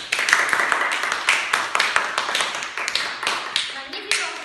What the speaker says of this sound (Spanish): Por favor, démosles un fuerte aplauso.